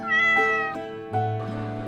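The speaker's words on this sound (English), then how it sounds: "C for cat" A cat meows loudly and close, giving two drawn-out tonal calls in a row with no speech over them.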